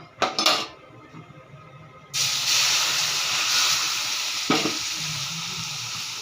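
Milk steeped with saffron and ground cardamom is poured into hot fried semolina halwa in a pan. A few pan clanks come first, then a sudden loud hissing sizzle that holds steady and fades slightly as stirring begins.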